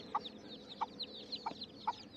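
A hen clucks in short, evenly spaced bursts, four distinct clucks close by, with soft chirping peeps between them and no talking.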